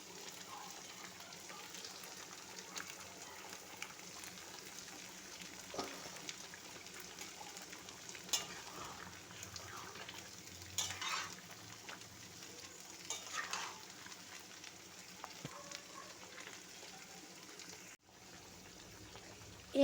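Chicken pieces fry in a pan with ginger, garlic and tomato paste for a Kashmiri chicken masala, a continuous soft sizzle broken by frequent scraping stirs and light clinks, with no talk.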